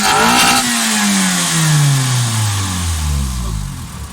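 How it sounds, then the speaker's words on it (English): Car engine revving loudly, close up, with a roar that winds down steadily in pitch over several seconds and gives an exhaust-heavy throttle note. "The throttle is pretty loud compared to what it used to be."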